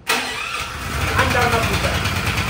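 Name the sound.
Blackstone push-button engine starting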